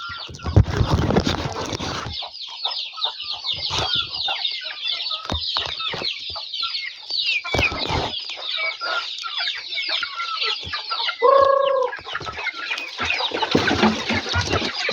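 Chickens cluck and squawk steadily throughout, with a rooster-like call standing out near the end, a busy near-field flock sound with no talking.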